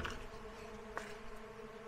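Dense, steady insect buzzing like flies or bees fills a dark abandoned apartment in Angola, a faint continuous drone with one brief brighter swell partway through.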